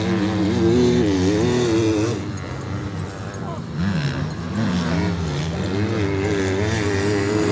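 Motocross motorcycles race past on a beach during a beach cross race, their engines a loud, continuous buzzing roar that rises and falls as the bikes sweep by, with voices heard underneath.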